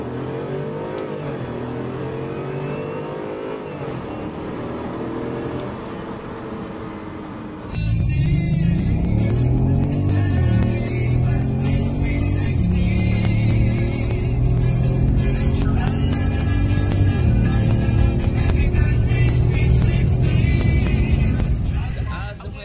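A 2015-2020 Hyundai Genesis engine revs repeatedly, the pitch rising and falling in loud sweeps, then settles into a louder, denser rumble heard up close.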